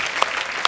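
Brief burst of studio audience applause on The Kapil Sharma Show, greeting Emraan Hashmi, Prachi Desai and Lara Dutta, dense and steady with no voices.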